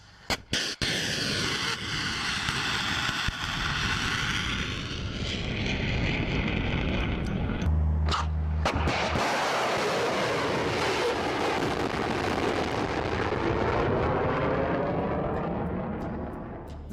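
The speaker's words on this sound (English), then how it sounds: "these rockets shoot straight up and then use thrusters on either side to correct their trajectory" Russian Bastion-P missile launch, the rocket rising straight up then firing side correcting thrusters; a loud sustained roaring rush fills the whole stretch, with a brief abrupt break midway before the roar resumes and slowly fades.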